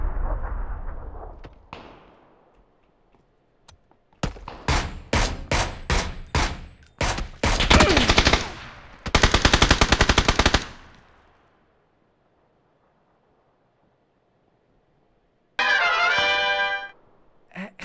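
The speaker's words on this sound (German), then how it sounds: "Ich habe 2 oder 3 Schüsse im Grind gejagt." Video game gunfire in rapid, loud bursts, with single shots giving way to dense automatic volleys, then a long silence and one last short burst.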